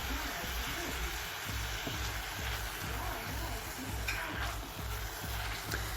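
Ground beef fries in a pan with a constant crackling sizzle, broken by a regular rhythm of stirring and scraping, close and steady throughout without speech.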